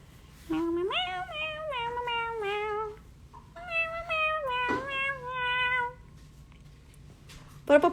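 Two pet cats meowing at home, a few drawn-out, rising and falling meows in close succession, fairly loud and near, with a brief sharp noise in between and faint rustling at the end.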